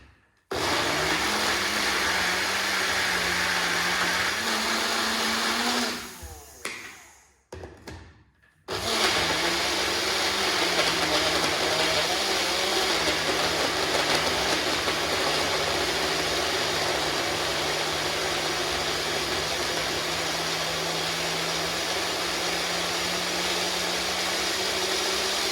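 A blender purees a smoothie of carrot, ginger and turmeric chunks with a loud, steady whirring drone. The motor cuts out for about two seconds partway through, then roars back and runs continuously to the end.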